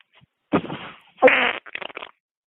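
A fart sound effect plays in a podcast listener message: a couple of close, loud, sputtering blasts followed by a short broken trail of smaller puffs.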